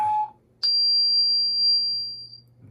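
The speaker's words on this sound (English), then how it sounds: "A iPad app that can play a 60 hertz tone." An iPad tone generator app plays a piercing, steady high test tone for about two seconds after a short lower tone, loud and pure, with a faint low hum underneath.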